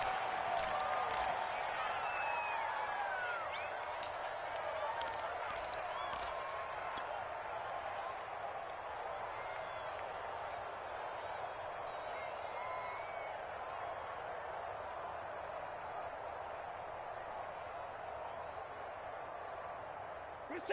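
Home crowd in Cleveland at an American football video game, a steady distant roar of cheering that holds evenly throughout under a commentator's voice.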